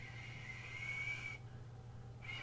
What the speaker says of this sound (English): I wish I could whistle.